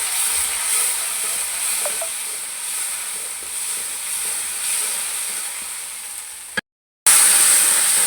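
Dried coriander, crushed red chilli, turmeric and salt fry together in hot oil, producing a continuous close hiss and sizzle with faint scraping of a stirring spoon. The sound cuts out briefly near the end, then returns louder.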